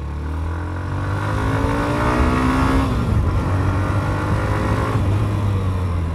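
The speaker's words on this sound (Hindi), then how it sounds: "तो फर्स्ट गियर हमने इंस्टॉल कर दिया, थोड़ा सा रेव करते हैं, देन लॉन्च करते हैं।" A Hero Xtreme 125 R motorcycle revs in first gear and launches, its engine note climbing steadily and loud and close throughout.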